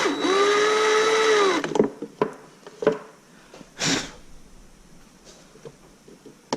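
A power driver runs for under two seconds, driving a screw into a custom plastic trim plate on the fuse panel of a 2014 Chevy SS, whining steadily then cutting off, followed by a few faint clicks and handling knocks.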